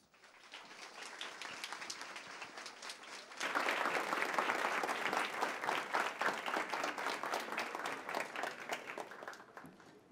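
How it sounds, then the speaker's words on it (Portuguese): A studio audience on a Brazilian TV Cultura show applauds to welcome a guest, the clapping starting moderate and then swelling into fuller, sustained applause that continues to the end. "vamos recebê-la com um aplauso de boas-vindas"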